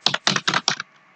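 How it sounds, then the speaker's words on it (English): Quick bursts of typing on a computer keyboard, four close clusters of key clicks in rapid rhythm that stop abruptly, with no voice. "oh, I really hate typing all this every time."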